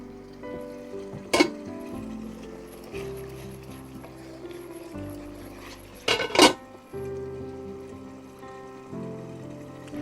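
Spiced masala for creamy butter chicken cooks in a covered pot, with steady low kitchen noise and a couple of sharp metallic clanks of a spoon against the pot.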